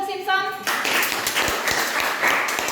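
Students clap in a classroom after a teacher's lesson on heat. A voice comes first, then short, fairly loud applause breaks out and keeps going.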